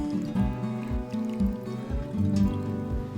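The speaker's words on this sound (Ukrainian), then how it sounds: "Рибу промиваємо водою та видаляємо всі залишки." Water trickles and splashes over mackerel being rinsed while cleaned for grilling, a continuous close running stream with small irregular splashes.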